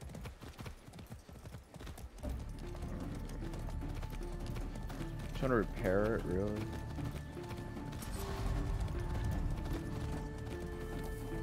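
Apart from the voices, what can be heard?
horse hooves galloping in video game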